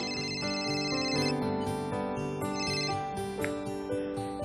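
A melodic electronic ringtone plays continuously, bright synthetic tones stepping through a tune, fairly loud with no voices.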